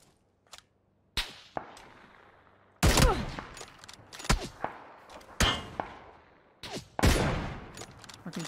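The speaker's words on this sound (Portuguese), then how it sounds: "Tem outro cara atirando nele, quem é?" Gunfire in a video game: sharp, close shots burst out irregularly, singly and in quick clusters, each with a ringing tail, over a quiet background without speech.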